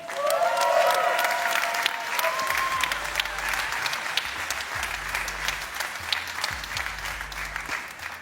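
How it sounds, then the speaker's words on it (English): An audience at the IAA 2025 world premiere of the all-new Mercedes-Benz GLC EV breaks into loud, sustained applause. A brief tonal flourish comes first, then a low rhythmic music beat pulses beneath the clapping. "a big applause for the all-new GLC"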